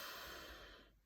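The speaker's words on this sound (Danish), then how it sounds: "Trækker vejret ind." A single deep, airy inhalation through the nose during a guided breathing meditation, close and soft, fading out after about a second.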